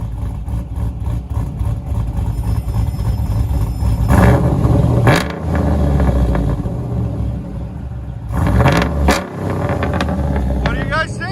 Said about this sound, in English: GMC Yukon, fully built, as you guys can hear